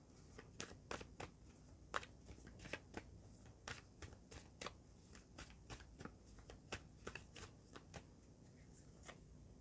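Tarot animal spirit cards being shuffled by hand, a quick run of sharp papery riffles and slaps in an irregular rhythm, close and fairly quiet, with no talking.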